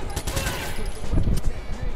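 Gunfire in the Watch Dogs 2 video game, a burst of sharp shots and rapid firing over a dense, noisy game mix, with a voice speaking faintly underneath.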